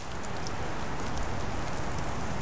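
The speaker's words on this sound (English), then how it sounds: "there's some big old raindrops coming from these trees" Big raindrops fall from trees onto a wet golf course, making a dense, steady patter that fills the whole stretch with no pauses.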